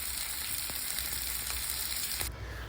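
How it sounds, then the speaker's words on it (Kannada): Fish fries on a hot tawa, a dense, even sizzle close by with a few faint clicks, cutting off abruptly at the end. "ಇದೇ ಥರ ನಾನು ತವಾ ಮೇಲೆ ಫ್ರೈ ಮಾಡಿಕೊಂಡೆ."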